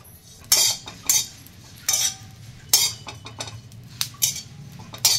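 Roasted dried fish (sukat) scooped from a pan into a dish with a metal spoon, sharp scraping clinks at irregular intervals against a faint sizzling background, close and distinct without talk.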